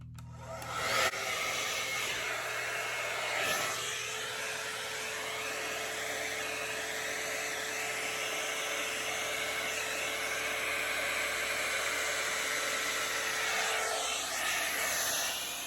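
A hair dryer blows across acrylic paint for a bloom Dutch pour fluid art piece, a loud continuous whirring hiss that starts abruptly and holds steady with small shifts in tone, with no talking.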